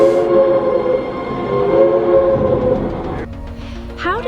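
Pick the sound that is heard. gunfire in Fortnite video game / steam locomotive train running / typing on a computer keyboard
steam locomotive train running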